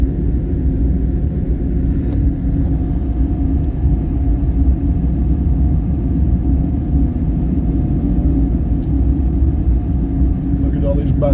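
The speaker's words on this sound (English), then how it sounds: "Look at all these bikes coming up right here." Motorcycles rolling past along Main Street during the Sturgis Motorcycle Rally in August 2022, a continuous, loud, deep engine rumble that holds steady throughout without a break, as if many bikes are idling and crawling by close at hand.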